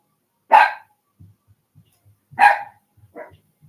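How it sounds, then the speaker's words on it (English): A dog in the Zelda: Tears of the Kingdom video game gives three close, loud barks, two full ones followed by a shorter, quieter one, with soft low footstep-like thuds in between. "What are you barking at?"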